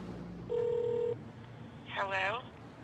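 A single ringback tone sounds on an outgoing telephone call, one steady held beep of about half a second, then a short burst of a voice answering.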